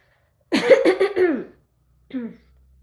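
A quick run of several harsh coughs, then a pause and one shorter cough, close to the microphone.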